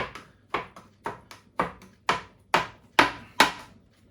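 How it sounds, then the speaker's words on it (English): Cooked, squeezed-out spinach chopped with a knife on a board, about eight crisp, evenly spaced chops, close and fairly loud with no talk. "lightly chopped, whatever that means."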